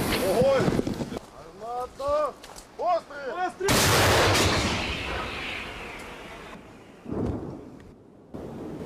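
A D-30 howitzer crewed by Ukrainian 71st brigade artillerymen fires a single loud, close blast after a stretch of talking, its boom rolling into a long rumbling decay with fainter noises trailing afterward.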